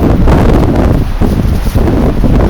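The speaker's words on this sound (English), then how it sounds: "it's ever so bloody windy, innit?" Strong wind roars through trees with a dense, loud rushing and buffeting against the microphone, constant across the whole stretch with only slight dips in force.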